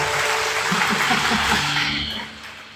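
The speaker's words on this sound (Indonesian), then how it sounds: "berikanlah tepuk tangan untuk Tuhan Yesus" Church congregation in Indonesia applauding during a worship service, a dense burst of clapping with faint voices and laughter beneath it, fading out toward the end.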